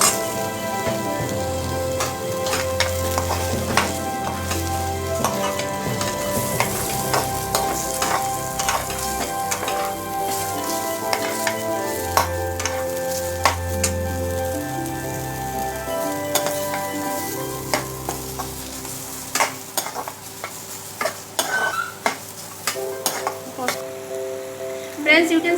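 Fennel seeds, cinnamon and cumin sizzle in hot oil for a chicken Chettinad curry, with crackling spatter and intermittent stirring scrapes close up, while music with a steady beat plays underneath throughout.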